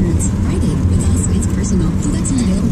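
Steady low road rumble inside a moving car, a constant engine and tyre drone that fills the whole stretch without a break, with voices talking over it.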